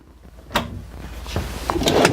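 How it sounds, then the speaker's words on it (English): A drawer in a 2015 Newmar Dutch Star 4018 Class A diesel motorhome runs on metal slides, giving a few quick sliding knocks and clicks, close and moderately loud, with no voices. "All the drawers are finished on the inside. They're on metal slides also."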